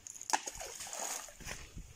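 Stones tossed into a shallow river strike the water at Naradve, making a sharp splash early on followed by a few softer sloshes and splatters, fairly close, with no talk.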